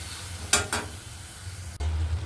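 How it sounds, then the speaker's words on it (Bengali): Spices stir-fry in a pan with a bright close sizzle, punctuated by a couple of scraping stirs and a louder burst of frying near the end. "ভালো করে নাড়িয়ে চাড়িয়ে কষে নিচ্ছি"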